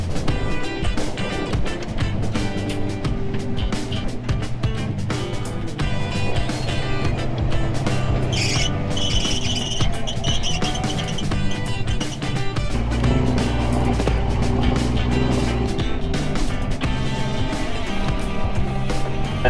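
A rat rod tow truck drives along a hazy road, its engine rumbling steadily and loudly throughout with road and wind noise, the drone deepening partway through as it accelerates.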